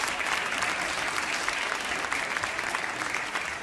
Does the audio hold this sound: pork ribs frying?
no